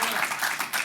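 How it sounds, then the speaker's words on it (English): Brief burst of audience applause at a leadership academy graduation ceremony, dense, even clapping from a crowd lasting under a second. "I just want to give Chico another round of applause"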